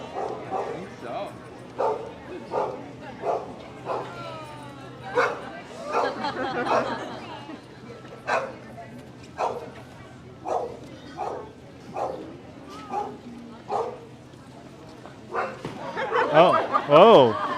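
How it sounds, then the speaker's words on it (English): A dog on a New York City street barks repeatedly in a rhythmic series of sharp woofs and yips, loud and nearby, with crowd chatter and voices underneath. "The dog."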